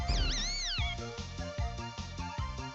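A cartoon cat meows once in the video game Super Puzzled Cat, a wavering meow at the start that rises and falls, followed by steady, rhythmic game music with no one speaking.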